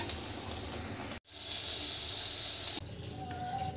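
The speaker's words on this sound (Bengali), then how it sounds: "গ্যাসের ফ্লেমটা মাঝামাঝিতে রেখে এটাকে ভালো করে ভেজে নিতে হবে" Corn pakoras deep-fry in oil over a medium gas flame, a steady close hiss and sizzle with a brief dropout and a slight change in texture partway through.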